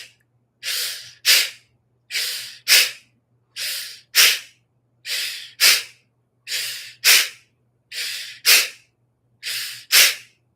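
Forceful breathing in a meditation exercise, eight paired cycles of a long hissing inhale and a sharp, loud exhale, steady and close with nothing else heard.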